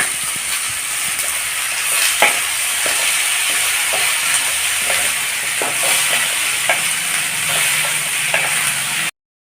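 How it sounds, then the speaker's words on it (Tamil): Snake gourd seeds frying with onion and tomato in a pan for chutney, a loud continuous sizzle with scattered scrapes and taps of stirring, close by, ending abruptly in silence. "நம்ம எடுத்து வச்ச பொடலங்காய் விதையை அதில் சேர்த்து நல்லா வணக்கிடலாம்"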